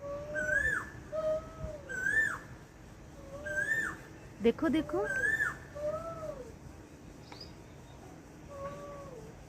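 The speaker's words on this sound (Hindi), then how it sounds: "गाइस, कोयल बोल रही है" Repeated rising bird calls of an Asian koel in trees before rain, evenly spaced and moderately close, with a brief voice speaking partway through.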